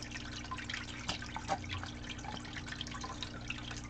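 Water poured into loose dirt holding black sands inside a shed, giving a soft, steady trickle with scattered faint drips, quiet and close, with no talking.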